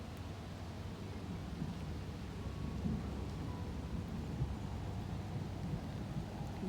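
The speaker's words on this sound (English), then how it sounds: "You can hear the thunder rumbling." Low, continuous thunder rumbles beneath steady rainfall in a garden on a rainy day, a soft broad wash of sound with gentle swells and no clear individual claps.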